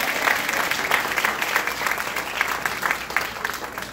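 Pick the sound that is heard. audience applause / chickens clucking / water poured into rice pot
audience applause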